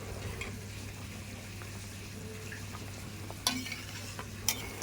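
Fried hilsa pieces go into a bubbling potato curry in a pan, a quiet simmering hiss with a steady low hum and a couple of brief splashes and clinks near the end.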